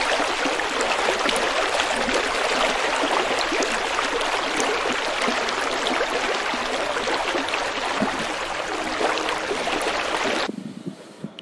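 The Krishna river flows in a steady, loud rush of churning water that fills the scene without pause for about ten seconds, then cuts to a much quieter tail.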